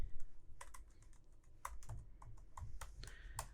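Close, crisp clicks of keys on a computer keyboard as a title is typed during a UX/UI design lesson. Keystrokes come in quick irregular bursts over quiet room noise, with no talking.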